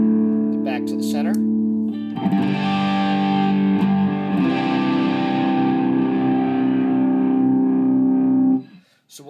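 Electric guitar played through a Yellow Cab overdrive pedal switched to its LED and germanium diode clipping side, producing sustained distorted chords that swell after a short opening pick, with a bright, harmonically rich tone and a compressed low end.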